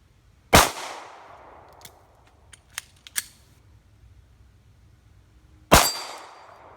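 Sharp gunshots from a Glock 42 pistol at an outdoor range of about 25 yards: two loud cracks about five seconds apart, each with a ringing tail, and a few faint metallic clangs of a steel target between them.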